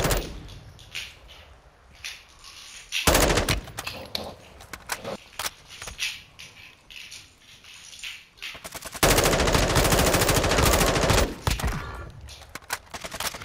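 Bursts of rapid automatic RPK machine gun fire in a video game, two long loud volleys amid scattered shots and game sounds, with faint voices underneath.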